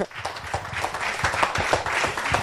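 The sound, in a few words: applause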